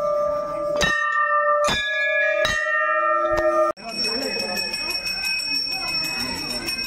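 A metal temple bell is struck four times, each clang ringing out and fading, then a steadier ringing tone continues over crowd noise at Maa Ghanteswari temple, Chipilima.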